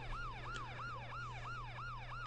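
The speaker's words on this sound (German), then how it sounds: "Krankenwagen ist auch schon hier." Ambulance siren in the video game The Crew, a steady wailing rise-and-fall repeating about every third of a second, moderately faint over a low vehicle hum, with no talk.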